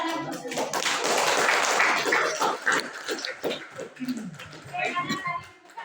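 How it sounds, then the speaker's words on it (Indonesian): Applause from an audience at a good-practice outreach session, a dense burst of clapping that swells loud and near over the first seconds, then thins into scattered claps while voices talk over it. "Tepuk tangan untuk semua."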